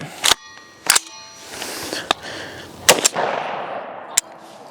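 Five sharp, loud rifle shots spaced irregularly, fired from a rifle fitted with a 3-position FRT trigger at an outdoor range, with brief decaying echoes between them.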